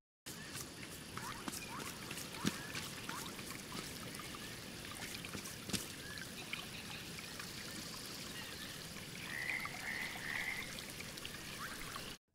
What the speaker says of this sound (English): I also implemented a sound for the river using an AkAmbient component